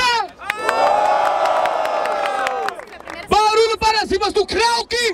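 Live crowd at a trap-special rap battle semifinal in Barueri cheers and shouts for a rapper, a loud sustained roar with whistles and yelling, then a host's voice cuts in over the noise.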